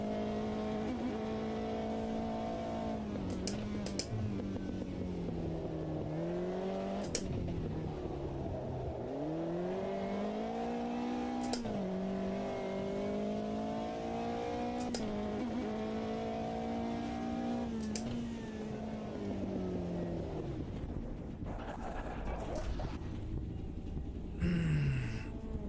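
A race car engine in the sim racing game Automobilista 2 revs up and down through the gears over a lap, the whine rising and dropping repeatedly with sharp shift cuts, loud and continuous with no talk.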